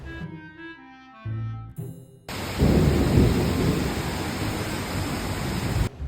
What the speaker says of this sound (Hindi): तेज बारिश हो रही है और तूफान आ रहा है